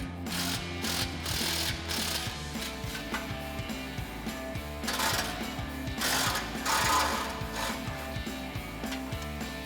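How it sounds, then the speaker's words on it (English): An impact wrench with a 13 mm swivel socket and extension unbolts exhaust nuts under a Chevrolet Silverado 1500, giving a fairly quiet, fast, regular mechanical rattle that runs continuously with slight surges. "13 millimeter swivel socket and extension on our impact. We're gonna fish that up in there, unbolt those 2 nuts"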